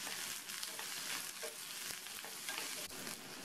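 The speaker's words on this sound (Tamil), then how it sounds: "இப்போ இந்த வெங்காயம் இஞ்சி ரெண்டுமே இந்த முள்ளங்கியோடு சேர்ந்து இன்னும் நல்லா வதங்கட்டும்" Radish, onion and ginger sautéing in a pan with turmeric, giving a steady close sizzle and crackle throughout, with faint stirring scrapes and no voices.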